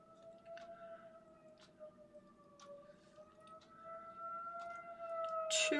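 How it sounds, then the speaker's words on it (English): A distant wailing siren holds a steady, slowly wavering tone, faint against background noise, growing slightly louder toward the end. "Oh, there goes the siren."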